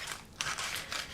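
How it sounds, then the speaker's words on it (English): A knife blade slicing open a plastic food package, with a few quick crinkly, scratchy cuts and tearing sounds close up at a quiet level. "I'm going to do what I shouldn't do and use my knife to open the package here"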